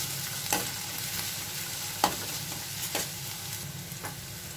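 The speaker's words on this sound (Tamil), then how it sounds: "நம்ம வெங்காயத்தை கொஞ்சம் வதங்கி எடுத்து பாருங்க" Onions sautéing in a pan for an avaraikkai (broad bean) kulambu, a soft steady sizzle with a few sharp scrapes of a spoon stirring at irregular intervals, no talking.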